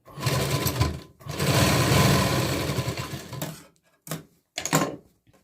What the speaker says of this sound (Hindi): जब आप टक्स लगाते हैं तब भी आपको इसको डबल सिलाई देना जरूरी है।